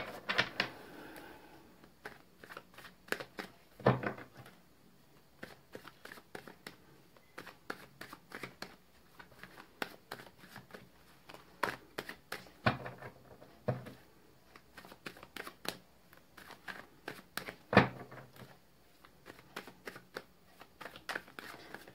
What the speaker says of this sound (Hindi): छह कार्ड्स यहां से निकालेंगे और दो तीन कार्ड्स दूसरे डेक से निकालेंगे गाइस।